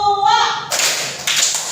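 A classroom of standing children clap together in unison, two sharp group claps following a brief stretch of speech, the broadband bursts loud and close with a teacher's voice leading just before.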